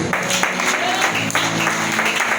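A church audience claps steadily and loudly, the applause blending with voices raised in praise.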